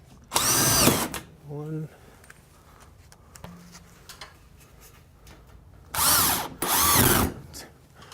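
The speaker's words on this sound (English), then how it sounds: "we just put it up with drywall screws" A power drill drives drywall screws into a ceiling in two loud, close whirring bursts that rise and stop, with one short burst at the start and a longer pair near the end. Brief voices and quiet handling noises come between them.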